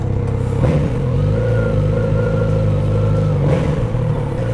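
A Kawasaki Z900RS motorcycle pulls away in first gear on a road at dusk, its steady mid-pitched engine drone rising in two revving surges with no talk over it.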